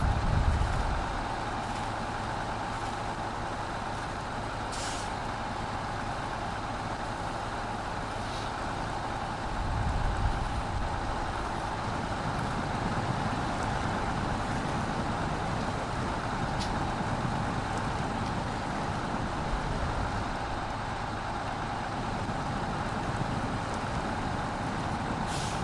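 Pak_Lunx 8x8 logging truck in SnowRunner grinding steadily through The Bog, a continuous low engine drone with a brief surge of revving near the middle, with no talk over it.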